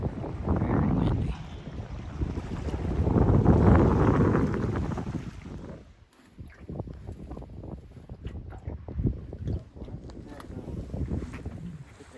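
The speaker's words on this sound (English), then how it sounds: "It's very windy out here today." Strong wind buffets the microphone out on Moosehead Lake in Maine, a loud rumbling roar that swells and eases with the gusts, with an engine-like drone and brief talk underneath.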